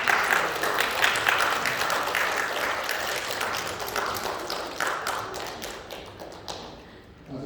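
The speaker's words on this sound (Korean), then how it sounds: "박수로 환영하겠습니다" A church congregation at a Sunday worship service in Colorado Springs applauds to welcome visiting family members. Dense, even clapping fills the space for several seconds, then thins out and fades near the end.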